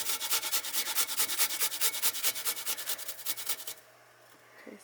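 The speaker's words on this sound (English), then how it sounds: "I'm going to just grate in some fresh garlic and ginger" Fresh garlic and ginger scrape rapidly across a small hand grater in quick rhythmic strokes, close and fairly quiet, about twenty passes before stopping, leaving faint room noise.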